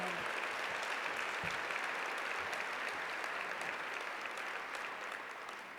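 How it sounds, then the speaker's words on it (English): An awards ceremony audience gives a sustained round of applause, a dense crowd of clapping hands heard fairly distant and soft, fading slightly at the end. "Please give them a round of applause for making this such a special evening"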